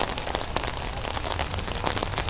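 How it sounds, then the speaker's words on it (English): Steady rain pours down during a football match, a dense, loud hiss that carries on without a break. "you can hear the rain continuing to come down"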